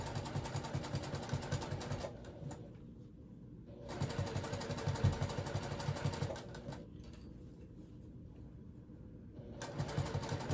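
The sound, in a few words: sewing machine stitching a purple water bag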